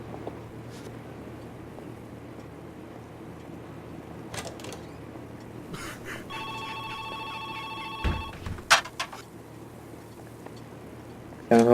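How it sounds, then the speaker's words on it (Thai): A home telephone rings inside the Joe's Diner video game, a short burst of evenly spaced electronic ring tones standing out over a low steady background hum with occasional clicks. "เสียงโทรศัพท์บ้าน"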